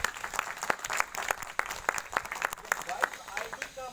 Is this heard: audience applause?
yes